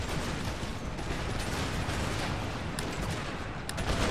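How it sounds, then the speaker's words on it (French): Musket volleys in Empire: Total War, a dense, continuous crackle of overlapping gunfire from massed ranks, loud and unbroken, with a few sharper reports standing out near the end. "Eux ils tirent à l'arrache"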